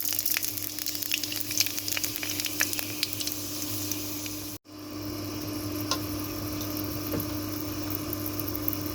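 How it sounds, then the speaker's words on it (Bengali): Panch phoron spices sizzle in hot soybean oil, a steady, dense crackling fry with faint pops, interrupted by a brief dropout midway before the sizzle resumes; no talking. "এখন আমি পরিমাণ মতো পাঁচফোড়ন দিয়ে দেবো তেলের মধ্যে।"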